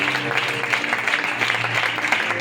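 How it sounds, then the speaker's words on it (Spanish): Church congregation applause during a sermon, a short stretch of steady clapping from a gathered crowd, moderately loud, with a faint low hum beneath it. "Pues damos ese aplauso para el Señor."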